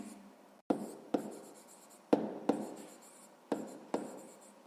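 Pen writing on paper close up, a series of scratchy strokes broken by sharp taps as the tip lifts and lands, roughly one every half second, with no talk over it.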